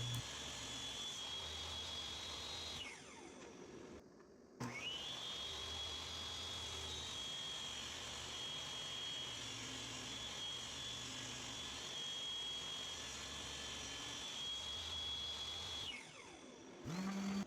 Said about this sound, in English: Back on the table saw, I removed some of the material so part of it will fit in the groove